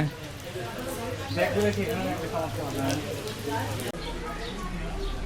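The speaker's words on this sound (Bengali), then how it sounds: "গুড়ি গুড়ি বৃষ্টি হচ্ছে।" Light drizzle falls outdoors at the Sixty Dome Mosque in Bagerhat, a soft, steady patter with drops hitting the camera lens, heard under people talking.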